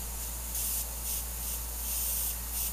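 Airbrush (Micron SB) hooked to compressed air, running thinner through with no paint: a steady close hiss of spray that swells in several longer bursts, alone without voices.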